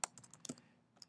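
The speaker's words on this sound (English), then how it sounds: "it's going to upload it while I'm allowed to type in some final comments" Keystrokes on a computer keyboard while final comments are typed in, a few quiet, irregular clicks in a short burst, then a pause and one more tap, close and faint with no talking.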